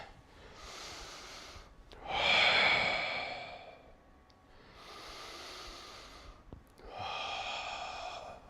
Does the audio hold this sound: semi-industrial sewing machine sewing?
no